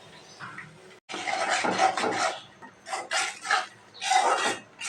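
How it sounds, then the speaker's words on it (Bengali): Roast spice masala with fried onion and chili powder is stirred in a pan, a spatula scraping and rasping in repeated bursts with short pauses, close and clear. "রোস্টের মশলাটা আমি ভালোভাবে কষিয়ে নিয়েছি"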